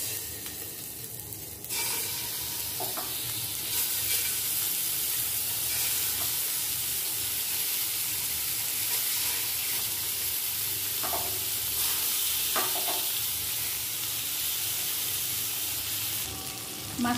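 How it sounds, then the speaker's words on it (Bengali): Magur catfish fry in hot oil in a frying pan, giving a steady, dense sizzle that runs unbroken, with a few faint clinks of utensils. "মাছগুলোকে আমি ভেজে নিব। আমার তেলটা গরম হয়ে গেছে।"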